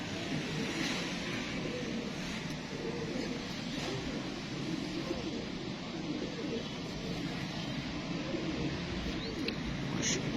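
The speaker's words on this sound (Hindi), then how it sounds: "माशाल्लाह बड़े नायाब रेयर कबूतर हैं" Rare pigeons coo softly amid constant background noise and faint traffic, a low murmuring sound running throughout without clear speech.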